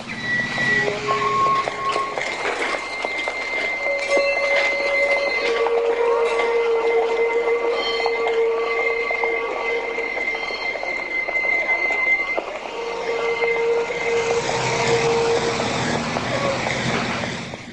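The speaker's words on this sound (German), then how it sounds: "Der Zug der Linie 4 startet in Richtung Hauptbahnhof." A 1940s Heidelberg line 4 tram pulling away toward the main station: continuous rolling rumble and rail noise with steady whining tones, close and fairly loud throughout, with no talk.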